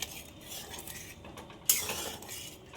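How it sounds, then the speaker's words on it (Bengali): A metal lid lifted off a pot of mutton and soybean curry, a faint scrape and rattle followed by a sudden clank, then a brief soft rustle. "একটু ঢাকনাটা তুলে দেখাচ্ছি"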